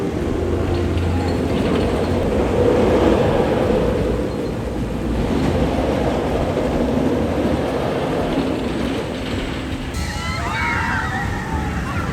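A roller coaster train at Six Flags Fiesta Texas rumbles steadily along its track, a loud continuous roar with rushing, sloshing texture, easing slightly partway through.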